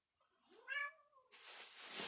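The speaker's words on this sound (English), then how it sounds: "If you hear a kitty crying, that's my cat, Sky." A domestic cat gives one clear, rising-and-falling meow close by, and a burst of broad rustling noise follows, probably grapevine and wreath material being handled.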